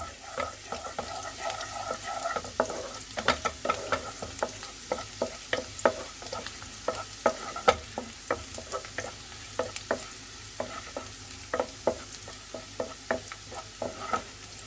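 Garlic frying in a pan for saag, a soft continuous sizzle dotted with frequent sharp crackles and pops at an irregular pace, close but fairly quiet, with no talking.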